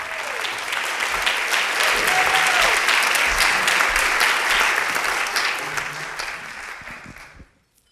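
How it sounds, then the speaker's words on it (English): An audience at a women's voting-rights panel event breaks into sustained, even applause that holds steady for several seconds, then gradually fades away to silence. "So let's give them an applause."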